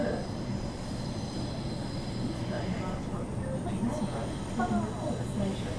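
A Perth-to-Mandurah passenger train rumbles steadily with faint wheel squeals and brief bits of speech in the background.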